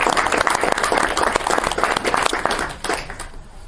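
A meeting audience gives a round of applause, dense close clapping that holds steady for a few seconds, then thins and tapers off at the end.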